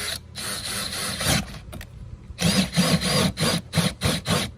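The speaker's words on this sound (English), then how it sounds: "Jamie's just gonna drill a hole" Bursts of grinding, rasping cutting noise from a drill with a hole saw cutting a large hole in a fishing boat, starting and stopping in several short runs with brief pauses between.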